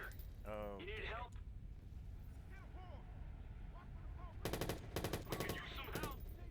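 Automatic gunfire in the Watch Dogs video game, with bursts of rapid shots crackling loudly in the last two seconds, while voices and tonal game sounds are heard earlier in the scene.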